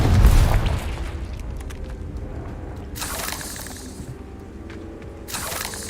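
A Confringo fire-blast spell from Hogwarts Legacy goes off in a loud booming burst at the start, then decays into crackling debris, with sharp shattering bursts following later.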